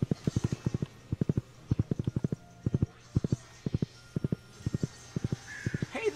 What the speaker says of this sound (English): Let's get on our handy-dandy horse here.